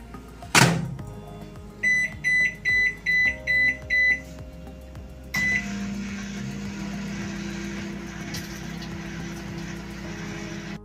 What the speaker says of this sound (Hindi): अब हम इसे रखेंगे माइक्रोवेव मोड पे पैनासोनिक माइक्रोवेव में 6 मिनट के लिए।